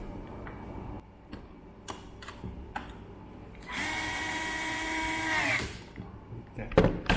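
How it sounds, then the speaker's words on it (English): Electric screwdriver runs for about two seconds in a steady whine while assembling a TGD1X unit, surrounded by scattered clicks and handling knocks of parts and tools. "We use the electric screwdriver"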